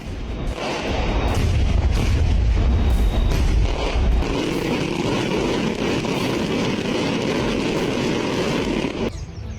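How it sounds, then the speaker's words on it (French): A loud, dense barrage of firecracker explosions at a patron saint festival for São Miguel rolls on without a break, booming and crackling together into a heavy rumble. "Un spectacle de pétards lors de la fête du Saint Patron São Miguel"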